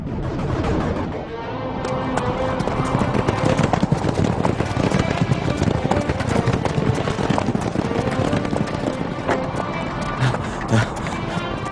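An army's horses in an animated film clop along in a continuous, dense rhythm of hoofbeats under a busy, loud soundtrack.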